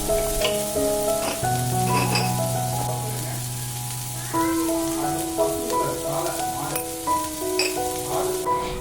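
Onion, tomato, ginger, garlic and cashews sautéing in a pan for a masala, a constant loud sizzle with occasional scraping and stirring, and no talk.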